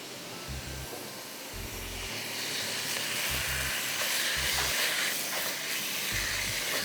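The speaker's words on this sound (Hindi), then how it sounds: "तो स्टर फ्राई करेंगे अंदर ऐसे ही, और हरा प्याज भी" Vegetables with green onion and mushrooms stir-frying in a hot pan for a chicken mushroom dish, a steady hissing sizzle that builds slightly louder over time, with low thumps of the pan and utensil moving, and no talking.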